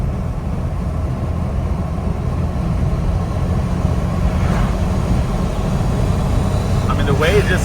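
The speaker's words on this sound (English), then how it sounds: "the way it just accelerates in the low RPM range it's crazy" A turbocharged 4.7 stroker engine in a Jeep Wrangler Rubicon pulls hard at low RPM, a steady, loud, continuous drone that holds through the whole stretch with light wind and road noise over it.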